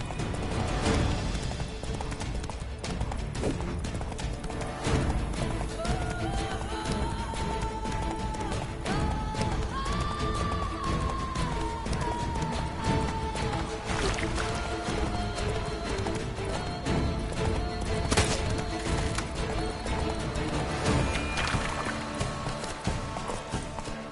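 Roach the horse gallops in The Witcher 3: Wild Hunt, a steady, close clatter of hoofbeats that runs without a break for the whole stretch, with a brief whinny-like cry along the way.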